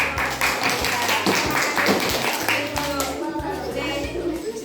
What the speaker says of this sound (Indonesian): Berarti tepuk tangan juga.